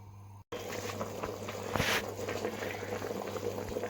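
Mutton paya simmers in a pot over medium heat, a continuous close bubbling boil with a low steady hum underneath, briefly cut off near the start and then resuming unbroken.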